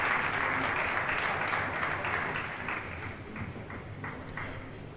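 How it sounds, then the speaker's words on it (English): Steady, dense applause from a crowd at a pool championship match fills the whole stretch, gradually easing slightly in loudness toward the end. "Lots of applause from the main table."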